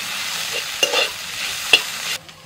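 Greens stir-fried with poppy seeds and crushed peanuts give a steady close sizzle, with a couple of sharp spatula scrapes against the pan before the sound cuts off abruptly.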